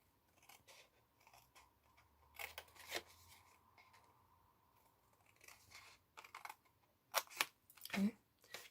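Scissors snip through a plastic lotion bottle in a run of close, crisp clicking cuts that come in irregular clusters with short pauses. A few sharper snips arrive near the end.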